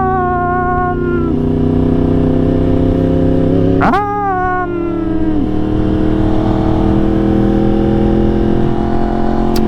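A motorcycle riding through traffic, its engine droning steadily up close with a strong harmonic hum, with one sharp rise and fall in pitch midway as the throttle is blipped, while road and wind noise run underneath.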